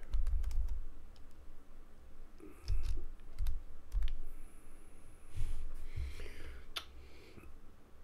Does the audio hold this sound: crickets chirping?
no